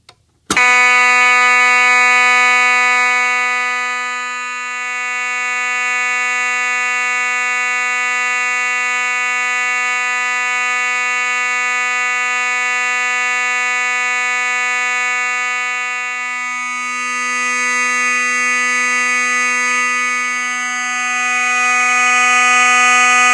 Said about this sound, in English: The FCI FC-72 only has the basic bell module in it, so it's coded on continuous